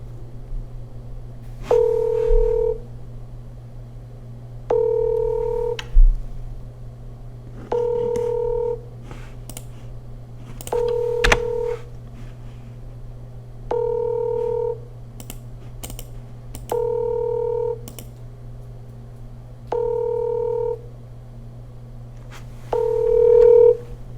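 Telephone keypad tones sound as a phone number is dialed for a call, a series of about eight evenly spaced two-note beeps, each lasting roughly half a second, over a steady low hum with no talk.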